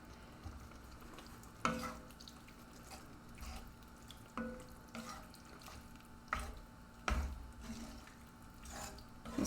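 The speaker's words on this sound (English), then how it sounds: "This is already bubbling really nicely" Shakshuka of tomato and pepper sauce, with yellow peppers, simmering in a pan, a soft steady sizzle and bubble broken by several louder clacks and stirring scrapes, fairly quiet and close, with no speech.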